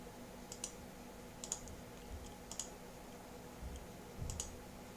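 Faint computer mouse clicks while using the undo button in the Ksnip screenshot application, a handful of soft, separate clicks over a low hum in a quiet room.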